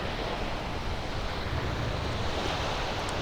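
Seaside waves wash steadily in front of a house by the shore, a continuous broadband surf roar with wind buffeting the microphone and no voices.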